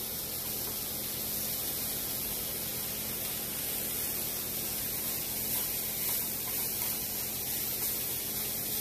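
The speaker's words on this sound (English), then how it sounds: "So we'll give this a couple minutes to get a good sear on it." Meat sears in a hot pan without cast iron, giving a steady, close hiss of sizzling fat that holds constant throughout.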